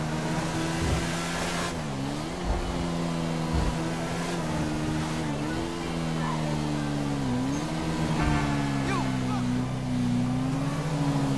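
A modified Kawasaki Ninja H2 fitted with thin drag-style tires revs and accelerates along a straight road, its engine droning steadily and rising in pitch through gear changes, loud and close under wind noise.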